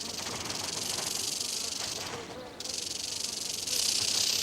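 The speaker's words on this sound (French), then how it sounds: "Un serpent à sonnette." A rattlesnake shakes the segmented tip of its tail in a warning display, making a continuous dry, hissing buzz. It is sustained and fairly close, swelling louder near the end.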